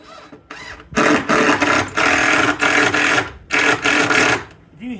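A power drill drives a screw into a floor joist, close and loud, in several sustained whirring bursts with brief pauses between them.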